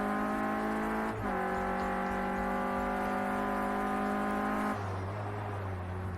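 Clio Cup race car engine in a sim racing game at Oulton, droning steadily at high revs with a gearshift blip just after the first second, then dropping to a low rumble near the end.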